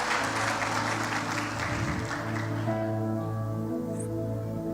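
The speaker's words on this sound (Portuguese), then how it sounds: "Se você vai aplaudir, aplaude, não fica no meio do caminho" A church congregation applauds in a broad, dense wash for about two and a half seconds, then the clapping fades under sustained organ-like musical tones that carry on to the end.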